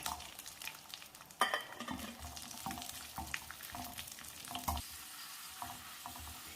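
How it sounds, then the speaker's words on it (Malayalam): Cashew nuts and raisins fry in ghee with a soft, steady crackling sizzle, broken by a few scrapes and taps of a stirring spoon, close but fairly quiet. "നട്ട്സും കിസ്മിസും മൂത്തിട്ടുണ്ട്."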